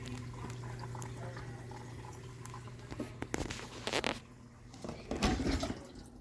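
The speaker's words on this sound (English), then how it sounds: "now we hear water coming in" Water flows into a newly installed Maytag dishwasher, a quiet bubbling trickle over a low steady hum, with a few sloshing surges toward the end.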